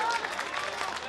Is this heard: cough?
no